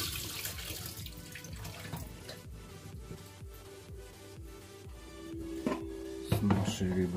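Water pours and splashes steadily in a kitchen sink as cooking water is drained off boiled burbot fish, with clattering of a pot near the end.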